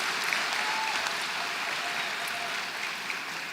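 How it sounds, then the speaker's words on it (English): A crowd at a high school graduation ceremony applauds the 2025 award winners and graduates with a dense, continuous wash of clapping that stays steady throughout. "Round of applause to all of our award winners and to the graduates of 2025."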